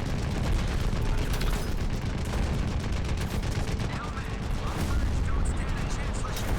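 Dense gunfire and explosions from the shooter game Crysis Remastered crackle and boom continuously at high volume, rapid bursts layered with heavier blasts throughout.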